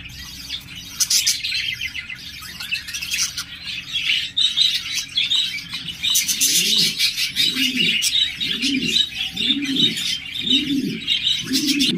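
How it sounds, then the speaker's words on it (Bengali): A pair of lutino double-factor Japanese budgerigars chirp close by in rapid, busy bursts. A run of soft, low cooing notes repeats steadily underneath during the second half. "এখানে দেখতে পাচ্ছেন একজোড়া জাপানিজ বাজিকার রয়েছে"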